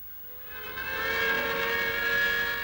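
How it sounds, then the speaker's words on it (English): A shift-end siren wails across the valley at the Bhakra dam construction project, a sustained steady tone rising in from a distance, swelling and holding for a couple of seconds with no voices over it. "sirens announce the end of a working shift in the valley"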